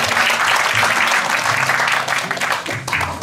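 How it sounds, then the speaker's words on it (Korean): Audience at a graduate school year-end alumni gathering in a Sejong University hall applauds to welcome a professor to the stage, loud sustained clapping that thins out toward the end. "자, 박수로 맞이해 주시기 바랍니다."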